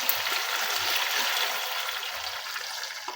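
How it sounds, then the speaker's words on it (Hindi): A glass of water pours steadily into a pot of achari chicken curry with tomatoes, giving a continuous splashing rush that is close and fairly loud, with no talking. "हम इसके अंदर 1 गिलास पानी ऐड कर देंगे"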